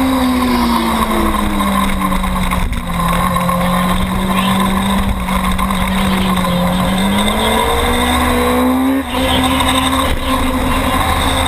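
Superstock motorcycles in a novice open road race roar into a turn, a loud, continuous high-revving engine drone with shifting pitch that dips briefly near the end.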